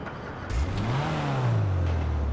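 A modified car's engine starts and revs, rising to a strong mid-pitched drone that swells, dips slightly and holds steady, heard close and alone.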